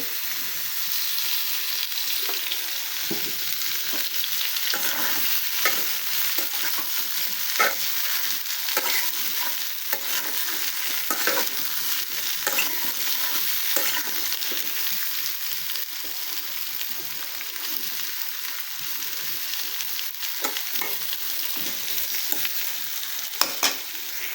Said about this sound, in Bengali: পটলগুলো হালকা হালকা ভাজা হয়ে যাচ্ছে